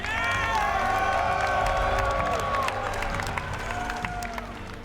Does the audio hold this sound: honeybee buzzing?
no